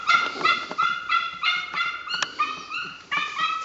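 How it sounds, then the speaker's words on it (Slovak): A Jagdterrier barks and yips in a hunting enclosure while working a wild boar, giving repeated high, strained barks in an uneven rhythm, loud and fairly close. "Pokiaľ bude takto haučať, je to dobré"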